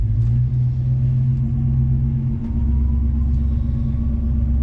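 A 1965 Ford Falcon Futura coupe with a 289 V8 cruising on a road, its deep low engine rumble loud and close, the tone shifting partway through as it pulls toward about 55 mph.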